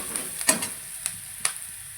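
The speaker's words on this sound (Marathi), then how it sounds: "कांदा छान परतून झालेला आहे आपला" Onion sautéing in a pan for spicy red chili pasta, a bright continuous sizzle with a few quick stirring scrapes, close and fairly loud.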